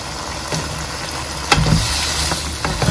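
Vegetables tipped into a pan of stir-fried tripe with white cabbage, giving a steady close sizzle with a few sharper clatters and bursts as they land and are stirred.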